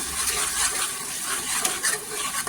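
A cup of ground roasted onion-coconut masala is stirred in a pan, giving a close scraping and rustling stir over a soft sizzle, with light utensil knocks and no voices.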